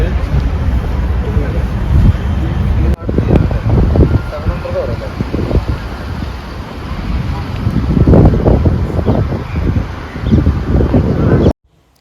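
Strong outdoor wind in Baku buffets the microphone in loud, uneven gusts with low rumbling bursts, continuing for about twelve seconds before cutting off.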